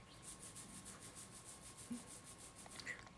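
Fingertips rub hair growth oil into a scalp in a faint, steady, close-up rubbing with soft irregular strokes and no speech.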